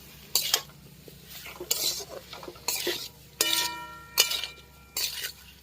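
A spatula scrapes and stirs Gandhamalati rice fried in ghee in a pan, giving about six distinct bursts of scraping and clinking at a fairly steady rhythm, with quiet gaps between them and no talking.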